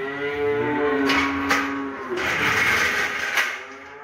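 A cow moos nearby in long, drawn-out lowing calls, with some shuffling and barn noise around it at a cattle trader's pen.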